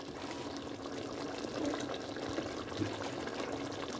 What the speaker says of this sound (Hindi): मैं साथ में पानी डाल दूँ कैटल का पानी